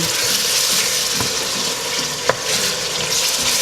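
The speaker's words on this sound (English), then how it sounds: "make sure you are stirring the onions and the tomato puree so it doesn't stick to the bottom of your pan" Onions and tomato puree sizzle and fry steadily in a pan while being stirred, a close, continuous hiss with occasional soft scrapes and a single sharper clink.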